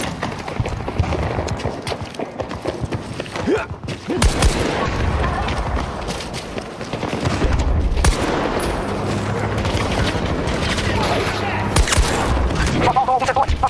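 M39 rifle shots crack out in Battlefield 2042 amid scattered explosions and other battlefield gunfire, loud and irregular, with voices talking over the action.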